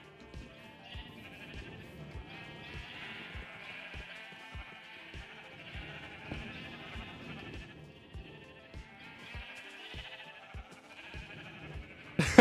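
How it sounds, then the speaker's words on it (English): Sheep bleating repeatedly in a video game, several overlapping calls over a steady rhythmic thumping beat, fairly close and moderately loud. "Get over here, sheeps."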